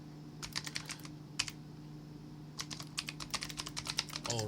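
Typing on a computer keyboard while entering data into a Google Sheets form: quiet, close key clicks in irregular bursts with a pause midway, over a faint steady hum.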